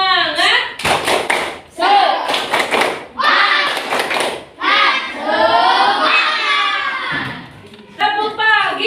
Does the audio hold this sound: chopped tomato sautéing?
no